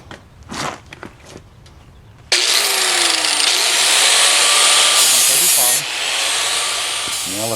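An American Sharpener Model 5005 with a 40 grit sandpaper disc grinds a blade in a loud, steady, abrasive hiss that starts suddenly and runs continuously, dipping slightly near the end, after brief talk and handling noises.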